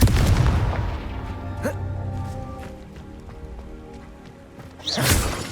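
Confringo blasting spell in the video game Hogwarts Legacy: a deep booming explosion opening loud, rumbling and decaying over several seconds amid scattered debris, then a second sharp burst near the end.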